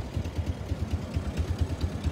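A motorcycle engine idles nearby with a steady, low, rhythmic thumping pulse that holds evenly throughout, with no talk over it.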